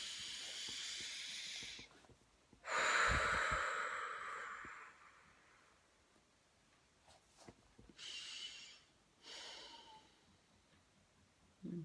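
A person takes slow, deep breaths, long airy inhales and exhales that hiss softly and close to the ear, repeated several times with quiet gaps between them.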